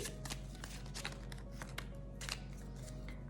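Oracle cards being shuffled for a tarot-style reading: a steady run of papery riffles and soft slaps, close and clear, with no talking over them.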